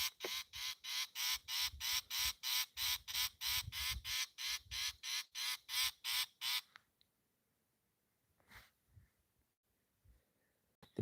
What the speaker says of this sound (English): The bird, as expected, made a false alarm because it thought the mongoose was going to dig up some food right next to it.